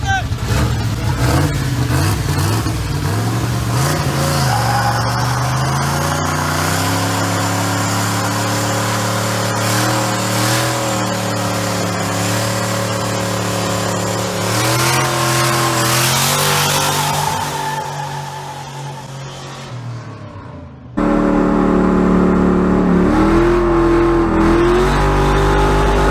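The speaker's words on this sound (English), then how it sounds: "Dad doing a little dig and making some noise and making some smoke for Roger Sutton." Truck engine revving hard during a smoky burnout at a garage event, a loud sustained roar that climbs and wavers, dips briefly, then surges again, with voices faintly under it.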